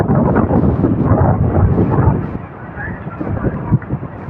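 Strong wind from a cyclone buffets the microphone at a seaside harbour, a loud, dense, low roar that eases slightly after two seconds but stays continuous throughout.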